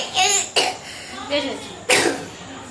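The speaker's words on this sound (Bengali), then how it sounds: "আমার কাশি লাগছে আর বক বক করলে আরো কাশি হবে" Two sharp, close coughs, with short breathy voiced sounds around them.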